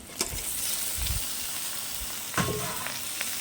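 Sponge gourd (dhundul) pieces hitting hot oil in a pan, giving a steady broad sizzle with a few sharper bursts and stirring knocks, moderately quiet with no talking.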